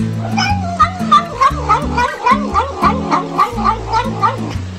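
Cat eating its food while letting out a rapid run of small, happy vocal murmurs and chirpy meows, about a dozen close, loud little calls in quick rhythm.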